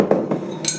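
A frying pan clanks and clinks against metal a few times in quick, close succession, short bright knocks with no talking.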